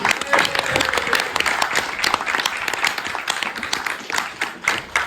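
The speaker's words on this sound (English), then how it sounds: "give him a round of applause" An audience at a fan convention breaks into steady, crowded applause, many hands clapping continuously at moderate distance, with some voices mixed into the noise.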